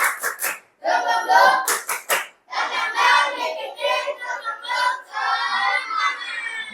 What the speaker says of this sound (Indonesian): Coba sekali lagi, tepuk semangat.